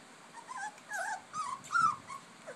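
Three-week-old puppies whimpering and yipping in several short, soft bursts, close by, with no talk over them.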